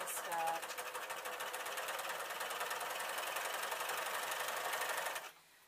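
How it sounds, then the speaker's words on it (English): An overlocker (serger) sews a rolling hem on skater skirts, a fast, even mechanical chatter running steadily for about five seconds and then stopping abruptly, with a voice at the start. "Even worse doing it on a serger than it is doing it on a sewing machine."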